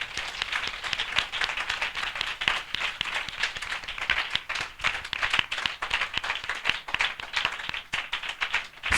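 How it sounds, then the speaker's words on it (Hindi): An audience claps loudly in welcome at a Christian gathering, dense hand claps ringing out steadily and close for the whole stretch, with no talking over them. "हम जोरदार तालियों से उनका स्वागत करें।"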